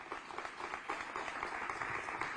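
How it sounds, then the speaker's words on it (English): Audience applause at a panel discussion on study findings and equity, a faint, steady patter of many hands clapping at a distance for a couple of seconds. "So I just want to acknowledge you and just give him applause for that work."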